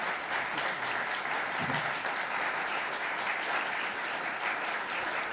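Audience applause at a live peace signing ceremony, sustained clapping from a crowd filling the whole stretch at steady moderate loudness, with no speech over it.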